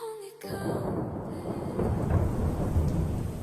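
Heavy rain pours outside while a sharp thunderclap cracks near the start, followed by a rolling rumble and a steady downpour with no voices.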